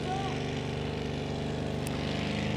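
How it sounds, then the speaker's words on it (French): Supercharged Chevy-engined Chevrolet Caprice drag car named Dominator, roaring steadily at a French drag racing championship meeting, a loud continuous engine drone with harmonic buzz throughout, commentary audible over it. "c'est au tour de Dominator, cette Chevrolet Caprice propulsée par un Chevy et son blower"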